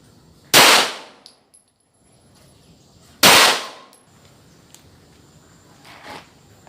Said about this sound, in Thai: แล้วยิงเพดเหล็กลองดูก่อนนะครับ